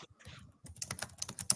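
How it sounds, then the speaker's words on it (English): Rapid typing on a computer keyboard clatters close by in quick bursts of sharp key clicks, soft at first and then heavier and more forceful. "You typing hard. I was responding to the chat."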